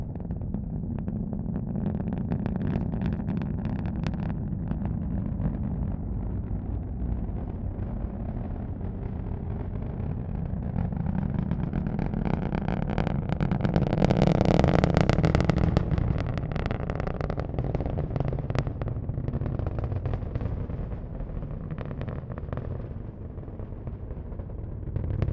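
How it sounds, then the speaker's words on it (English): Nine Merlin engines of a SpaceX Falcon 9 rocket roar in a steady, dense, broadband rumble during a Starlink launch from pad 40, swelling louder around the middle before easing slightly, with no speech over it. "Let's listen to the roar from the 9 Merlin engines."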